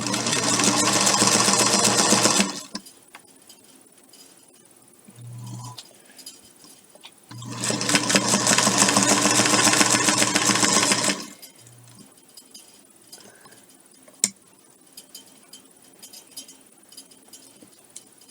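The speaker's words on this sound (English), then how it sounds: "Let's see if I can do one more stitch." Sewing machine stitching a DIY bowl holder, two loud close bursts of rapid whirring a few seconds each, separated by quiet handling and short single-stitch hums.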